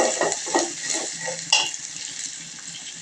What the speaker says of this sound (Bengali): এখন দিয়ে দিচ্ছে তেজপাতা দারচিনি এলাচি দিয়ে সুন্দর করে নাড়াচাড়া করে নিচ্ছে